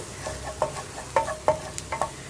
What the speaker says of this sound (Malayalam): വെളുത്തുള്ളിയുടെ കളറൊന്ന് ചേഞ്ചായി തുടങ്ങണം, അതുവരെ നമ്മളൊന്ന് ഇളക്കി കൊടുക്കുക